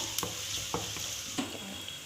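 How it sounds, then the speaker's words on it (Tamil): Sliced onion sautés in oil in a pan, a steady close sizzle broken by several quick spatula scrapes and taps against the metal, with no one speaking. "வெங்காயத்தை கொஞ்சம் வதக்கிக்கிடுவோம்"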